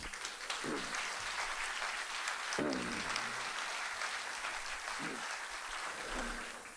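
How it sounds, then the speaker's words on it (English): Audience applause at an event, a continuous wash of many hands clapping at moderate distance, with a few voices breaking through now and then. "let's give a big round of applause to Peter."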